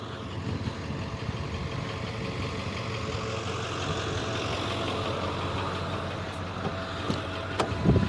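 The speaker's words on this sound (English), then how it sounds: "Let me pull my truck up here." A truck engine idles and rumbles low and steady as the truck is pulled up, fairly quiet and constant, with a brief louder surge at the end and no talking.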